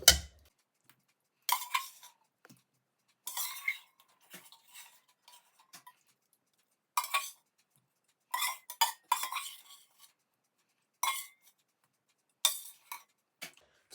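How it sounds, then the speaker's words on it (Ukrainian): A pot being washed: scattered bursts of clinking metal and dish clatter, close by, with short splashy scrubbing sounds separated by quiet pauses. "Все, каструлю урочисто мию"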